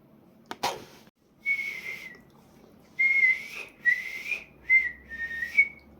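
A person whistles a short tune in several bright, clear phrases with brief pauses between them, close by and fairly loud, after a sharp knock at the start.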